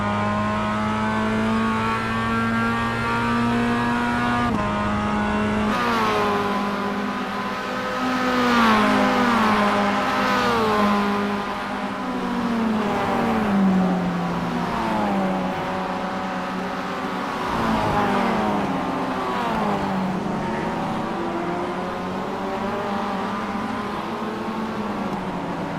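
Group A race cars roar around Sandown in a sim racing game, their engines rising and falling through repeated gear changes for a long continuous stretch, loud and close with no one talking.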